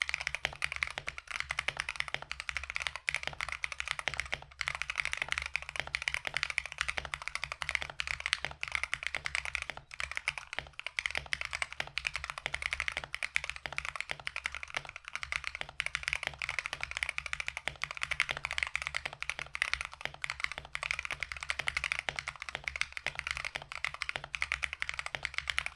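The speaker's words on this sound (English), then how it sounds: "here's a sound test of the final product." Steady, fast typing on the cheapest keyboard sold on Amazon after upgrades, the keystrokes clacking continuously and evenly up close with no talking.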